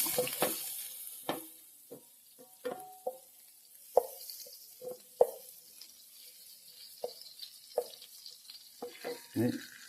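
Butter fries in a pan for Kannur-style pasta while a spoon stirs, giving scattered close clinks and taps over a faint steady sizzle, with garlic going in partway through.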